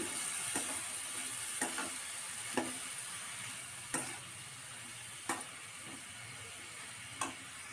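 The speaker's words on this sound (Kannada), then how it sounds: "ಹಾಗೆ ಕಟ್ ಮಾಡಿರುವಂಥ ಹಲಸಿನಕಾಯಿನೆಲ್ಲ ಅದೇ ಒಗ್ಗರಣೆಯಲ್ಲಿ ಹಾಕಿ ಫ್ರೈ ಮಾಡ್ಕೊಳ್ಬೇಕು" Cut young jackfruit frying in a tempering, giving a steady soft sizzle with sharp, evenly spaced clinks of stirring roughly every one to two seconds, close and fairly quiet with no talk.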